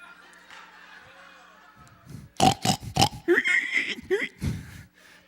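A man imitates a pig with a run of loud, rhythmic oinks and grunts, about six short bursts in quick succession, following a quieter stretch of low murmuring background.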